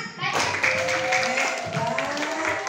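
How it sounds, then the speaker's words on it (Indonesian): Schoolchildren applauding in an elementary school classroom during a disaster-awareness visit, a short burst of many small hands clapping with voices mixed in over it. "tepuk tangan semuanya"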